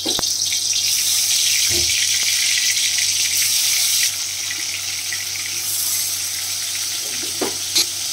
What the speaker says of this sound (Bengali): আর আমি আলু একটু চাকা চাকা করে কেটে নিয়েছি ভাজবো বলে